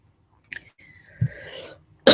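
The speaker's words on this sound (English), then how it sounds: "Excuse me, the cough is not included in that." A single sharp cough bursts out after a moment of quiet, followed by a throaty, rasping sound and then another abrupt loud burst at the end.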